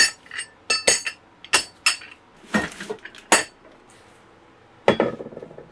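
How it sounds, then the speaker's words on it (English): Metal nuts, bolts and brackets for a Stromberg Carlson trailer tray clinking and clattering as they are handled, a scattered series of close, bright metallic clinks of varying loudness with brief gaps between them. "So we have all of our nuts and bolts, another L bracket, some more metal brackets."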